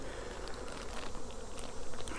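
Honey bees swarm at an open hive, producing a faint, dense, continuous buzzing drone with no pauses and no voices.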